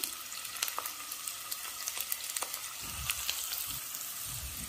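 Bay leaf, garlic cloves and asafoetida fry in hot oil for dhaba-style chicken, making a steady close sizzle with scattered crackles and a few louder spits and stirring bumps toward the end.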